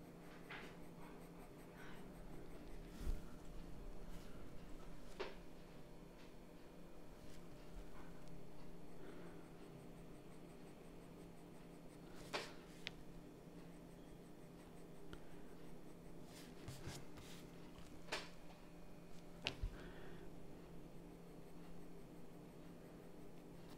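A 2B pencil scratches and scribbles across paper while shading the dark trim of a Converse trainer, a faint, close, steady scraping with occasional sharper taps.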